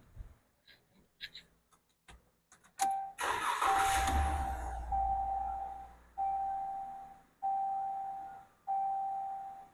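A Dodge Ram 1500's 3.6L engine cranks and catches after an oil change, then settles into a steady idle that pulses in regular surges, preceded by a few faint clicks and knocks.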